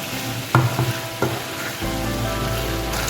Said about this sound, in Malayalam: നമ്മുടെ ബീഫ് ഫ്രൈ ചെയ്ത് വെച്ചിരിക്കുന്നത് ഇതിലോട്ടിടാം. എന്നിട്ട് നല്ലപോലെ അങ്ങ് മിക്സ് ചെയ്യുക